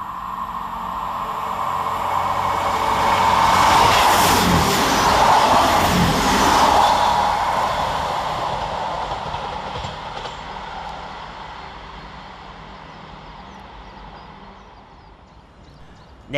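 A pair of coupled Class 158 diesel multiple units, 158823 and 158835, run fast through Dudley Port station, the roar swelling to a peak as they pass close by, then fading slowly into the distance.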